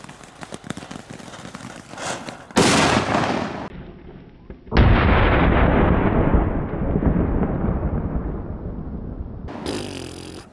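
Fünke Mixed Flowers SF5-MIX firecrackers go off in a loud outdoor test in a pit, with booming blasts, one long roaring crackling burst trailing away and a final sharp bang.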